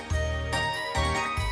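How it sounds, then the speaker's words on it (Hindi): A church bell in a tall bell tower in Italy strikes three times, each stroke loud and ringing with a long shimmering tail, alone and unhurried. "चर्च की जो बेल आपको सुनाई देता है ना"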